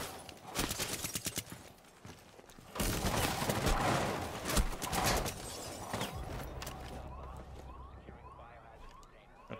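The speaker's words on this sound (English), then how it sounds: "Gun." Gunfire in the tactical shooter Rainbow Six Siege, rapid bursts of shots in two loud stretches, the second longer and denser, followed by quieter ringing and rattling tones.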